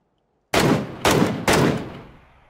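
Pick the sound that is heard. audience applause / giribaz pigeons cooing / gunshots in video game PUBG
gunshots in video game PUBG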